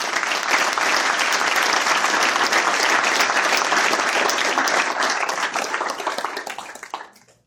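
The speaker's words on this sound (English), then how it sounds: "how about a round of applause for the folks here in the room" Loud, dense applause from a crowd in a room at a police chief announcement, sustained and even, then thinning out and fading to silence at the end.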